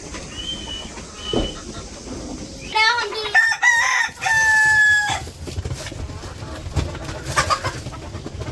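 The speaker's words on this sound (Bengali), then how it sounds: "এখন মুরগিরে খাবার দিয়ে নিব, সময় হয়ে গেছে খাবার দেওয়ার" Chickens and a rooster in a small village yard at feeding time, with a rooster crowing in bright repeated calls amid clucking and scattered bird noise, fairly close.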